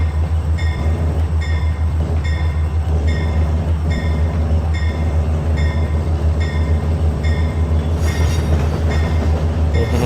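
A Barendra Express locomotive shunting along the main line and coupling onto its train, with a steady loud rumble of rail cars and a rhythmic repeating clank of wheels and couplers throughout, and no talk.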